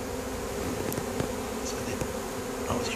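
A swarm of honey bees buzzes steadily as it is swept into a five-frame nucleus hive, a dense, continuous drone at moderate level with a few individual bees passing closer.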